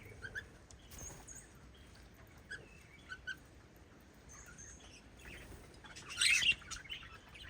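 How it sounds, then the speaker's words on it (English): Small parrots in an aviary chirp and tweet in scattered short bursts over a quiet background, with a brief busier flurry of calls near the end. "And the small parrot aviaries,"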